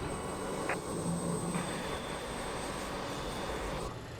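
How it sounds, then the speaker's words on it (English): Jet engines of a BAE 146 airliner spooling up on a Qantas/StarTrack flight, heard as a steady, broad roar with a faint rising whine. It stays loud and continuous throughout, with no talk. "we can now turn on our engine, start up our engines, and we will get going"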